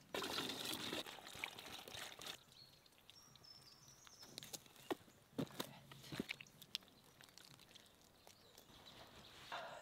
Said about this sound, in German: Dann fülle ich erst kaltes Wasser ein.